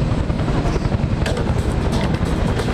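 A helicopter carrying motorcycles flies in over the sea during a rescue training demonstration, roaring steadily overhead, its rotor thumping under a heavy, continuous engine drone that stays loud throughout.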